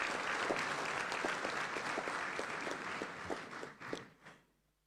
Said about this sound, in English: shall we give the pastor a round of applause instead of an amen?